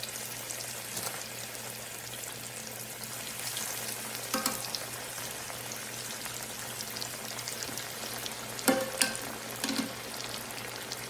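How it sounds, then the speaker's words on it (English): Tomatoes fry steadily in a hot skillet, a constant crackling hiss with a few louder pops and scrapes along the way. "I'm gonna go ahead and start putting our tomatoes in there. Yeah, you hear that sizzle?"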